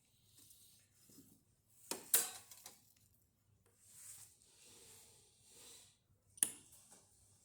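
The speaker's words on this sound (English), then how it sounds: "That's why I'm using our tamper." Soft clicks and knocks of a tamper pressing espresso grounds in the portafilter of a Breville Barista Touch espresso machine, a few sharp taps among quiet scraping, close and faint with no talking.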